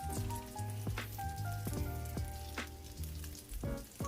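Crab cakes fry in a pan over medium-low heat, giving a steady crackling sizzle with scattered sharper pops and faint clinks throughout, close and unaccompanied by speech.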